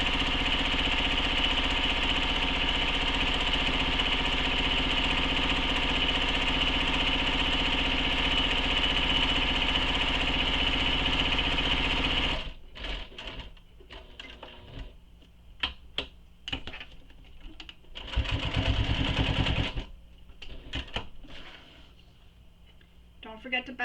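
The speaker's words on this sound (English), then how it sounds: "and then we're going to back stitch a few stitches, and then back down the other side." A sewing machine runs in a steady continuous whir while stitching a bag strap, then breaks into short stop-start bursts of back stitching, with a voice speaking over the quieter stretches.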